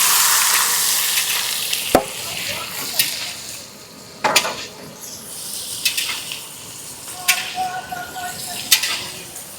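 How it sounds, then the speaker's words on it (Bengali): Chopped onions with whole garam masala, dried red chillies, whole cumin and bay leaves hit hot oil in a pan, giving a loud steady sizzle broken by sharp clatters and scraping stirs. "কড়াইতে তেল গরম হয়ে গেছে, এবার দিয়ে দেবো গোটা গরম মশলা, শুকনো লঙ্কা, গোটা জিরে আর তেজপাতা। দিয়ে দেবো কেটে রাখা পেঁয়াজ।"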